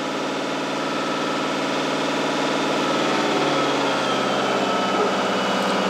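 Vehicle engine idling steadily, a continuous even hum with a fine regular pulse, close and unchanging throughout, no voices.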